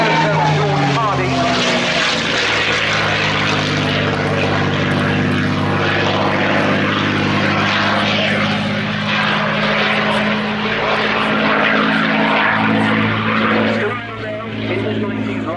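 A P-51 Mustang in Red Tails colours, a propeller warbird at the Royal International Air Tattoo, drones loudly and steadily with a sustained engine roar throughout, while a commentator talks over it.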